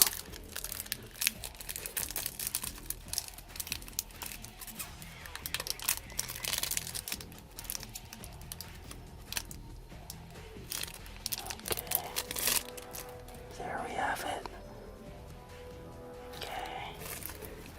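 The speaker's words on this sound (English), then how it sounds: "Plastic film is off." Plastic shrink-wrap is peeled and crinkled off a 2002 Yu-Gi-Oh! Kaiba starter deck. Close, soft crackling and tearing rustles come in irregular bursts, with a few faint handling knocks.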